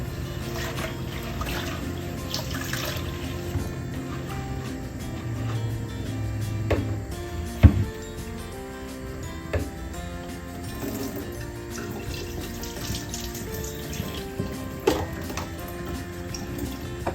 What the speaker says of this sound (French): je vais le rincer. Avec de l'eau froide.